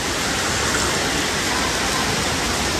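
Heavy monsoon-style downpour outside a house, a loud, dense and unbroken wash of rain close by, steady throughout with no pauses.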